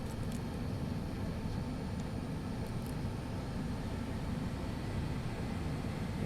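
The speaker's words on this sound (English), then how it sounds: "You can hear the pack starting smoothly." A Boeing 777 air conditioning pack in a flight simulator starts smoothly with a low, steady rumbling whoosh of airflow, held constant and fairly quiet throughout, with a few faint clicks near the start.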